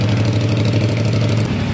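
A 2024 CFMoto CLC 450 motorcycle with a dual chamber exhaust idles close by, a steady low throbbing engine note with slight unevenness, alone and unbroken for under two seconds.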